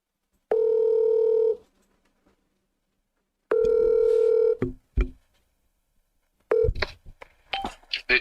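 A telephone line gives two steady dial-tone bursts separated by silence. Then a quick run of dialing tones follows before a call connects, loud and close.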